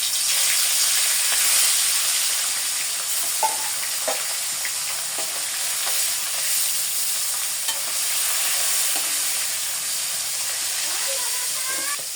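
Marinated fish frying in hot oil, a loud, continuous hiss and crackle with occasional light knocks and stirring scrapes, close up and unbroken throughout.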